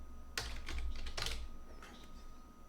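Fingers tap out a short burst of keystrokes on a computer keyboard, quiet clustered clicks followed by a couple of isolated taps.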